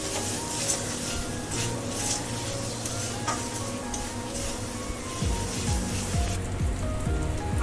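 Egg curry masala with chopped coriander leaves being stir-fried in a pan, a continuous loud sizzle with intermittent scraping stir strokes close up, no voices.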